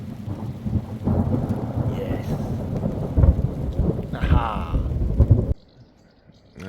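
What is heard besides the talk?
thunder rumbling during a thunderstorm with rain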